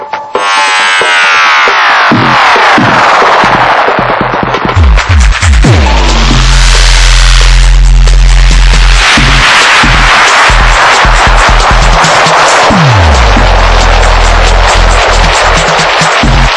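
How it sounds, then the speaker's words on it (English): A loud, swirling spiral tape-delay effect from a Pioneer DJM-900 Nexus DJ mixer, echoes spiralling up and down in pitch, dense, noisy and chaotic throughout. "So the spiral is like a tape delay that's gone bananas"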